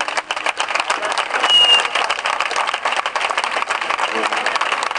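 An audience at an outdoor 15M movement assembly in Valencia claps in a scattered, steady patter for several seconds, fairly distant and moderately loud.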